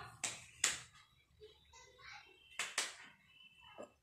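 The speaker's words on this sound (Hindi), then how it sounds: "चित्रांश के लिए ताली बजाओ" Children clap for the winner of a game at home, a few sharp, close claps in two small bursts separated by quiet, with faint speech between them.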